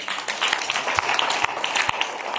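A church congregation claps and cheers in praise during a French-language service, steady dense applause with a few sharp louder claps, filling the room throughout.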